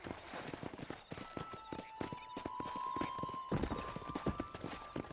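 A horse gallops in the video game Red Dead Redemption, its hooves making a quick, steady clip-clop rhythm under a faint sustained musical tone, with a brief whinny-like sound.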